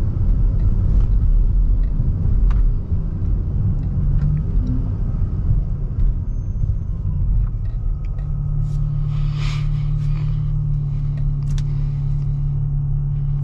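A Mopar 3.6 V6 car fitted with a Ripp supercharger drives on a busy road, its low engine rumble loud at first, then settling into a steady drone with a sustained hum as it cruises.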